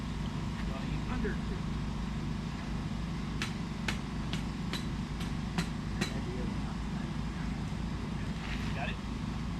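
A hammer strikes a stake outdoors at a ham radio field day, about seven sharp metallic taps in a quick, regular run over steady engine-like rumble, with people talking nearby.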